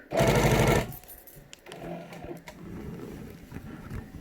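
A sewing machine stitches a quilt block in one loud, rapid burst of under a second, then stops, leaving faint clicks, thread handling and quiet shuffling nearby.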